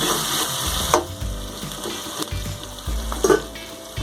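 Potatoes and onions frying in a pan, with steady sizzling throughout and a few brief clinks and scrapes of stirring, close and moderately loud.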